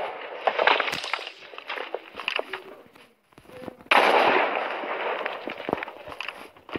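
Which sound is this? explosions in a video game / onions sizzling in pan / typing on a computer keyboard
explosions in a video game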